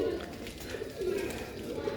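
Sialkoti chuha pigeons coo in low, soft murmurs, faint and continuous beneath someone talking.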